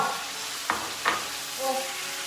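Shrimp and holy basil stir-fry in a sizzling pan, a constant hiss with two sharp scraping strokes of a spatula, close and fairly loud, with no talking.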